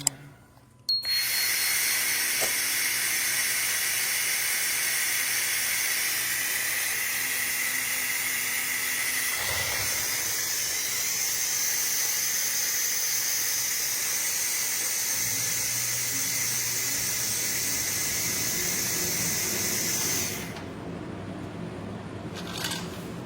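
An AKQ-1500 laser cleaner strips rust and epoxy primer from a 1957 Ford F100 cab with a steady, loud, high-pitched hiss and whine that runs nearly twenty seconds before stopping, with a brief click partway through.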